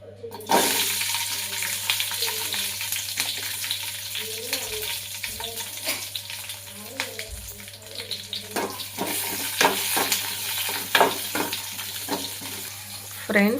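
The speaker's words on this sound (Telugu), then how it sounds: "ఆయిల్ వేసేసుకొని పెనంలోకి ఇప్పుడు హీట్ అయిన తర్వాత పచ్చిమిర్చి వేసేసుకోవాలి" Green chillies fry in heated oil in a pan for a palli chutney, giving a steady close sizzle throughout with scattered pops and stirring scrapes, and a voice speaks briefly over it.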